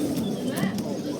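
Pigeons coo softly and continuously at the Asaka pigeon market, a low burbling murmur under someone talking about the birds nearby.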